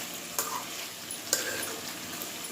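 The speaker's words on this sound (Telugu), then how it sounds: "ఇలా ఒకసారి అడుగంటకుండా 2 మినిట్స్లో కొంచెం స్పూన్తో తిప్పుకుంటే" A spoon turns fish pieces in a pan of tamarind-free fish curry, soft simmering sizzle underneath with two light scraping clinks of the spoon against the pan.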